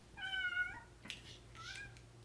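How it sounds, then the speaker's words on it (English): A pet cat meows nearby, one drawn-out tonal meow followed by a couple of shorter, softer cries over a low steady hum. "It's my cat."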